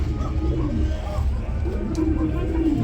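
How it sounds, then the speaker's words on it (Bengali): Low, soft cooing of a pair of fancy pigeons repeats in a gentle rhythm, close and fairly quiet, with a faint background hum. "প্রিয় বন্ধুরা আমার এক জোড়া শৌখিন কবুতর দেখাবো"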